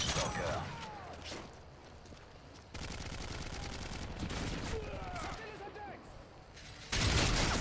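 SCAR rifle fire in Modern Warfare 3 crackles in rapid bursts with gaps between, over game ambience, and a voice talks through part of it.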